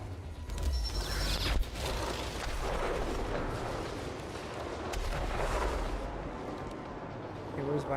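Gunfire from a machine gun in the video game Chernobylite, a dense, continuous roar of shots and blasts for several seconds, loud and close, fading somewhat near the end.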